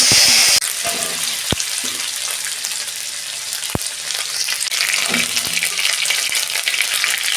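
Ginger paste goes into a hot pan already holding bay leaf, cinnamon, cloves, cardamom and green chilli for a vegetarian dhokar dalna, giving a sharp burst of sizzling that settles into a steady, close frying hiss.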